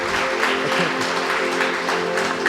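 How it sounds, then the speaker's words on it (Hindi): Congregation at a worship and healing prayer service clapping together, a dense, steady patter of many hands filling the room at fairly close range. "ताली बजाकर प्रभु को धन्यवाद दें"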